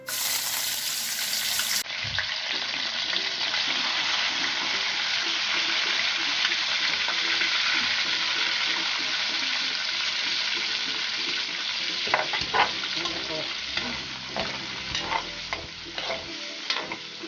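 Liver frying in a pan over a low flame, a loud, steady sizzle with frequent close stirring scrapes and clatter that grows busier toward the end, with no talking.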